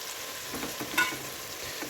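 Cut tomatoes for chicken biryani drop into a hot pan and fry with a faint, steady sizzle, a brief louder crackle partway through, no voices.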